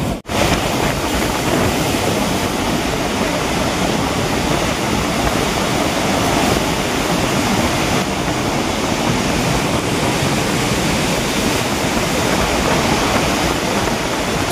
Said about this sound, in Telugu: చూడండి ఎంత ఎత్తున వాటర్ అనేది ఫ్లో అవుతుందో